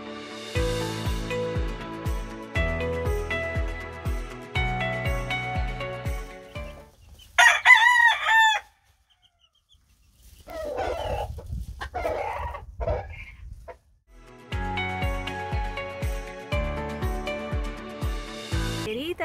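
A rooster crows repeatedly near a backyard coop while hens cluck, with several loud crowing bursts and a short quiet gap midway before the clucking and crowing resume.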